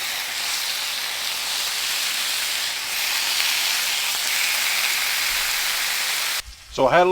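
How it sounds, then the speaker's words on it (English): Steady rain falls outdoors on an overcast cooking day beside a grill, a dense even hiss that runs for several seconds before abruptly cutting off near the end. "it's a little rainy out here today"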